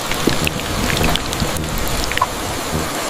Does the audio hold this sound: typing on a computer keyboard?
no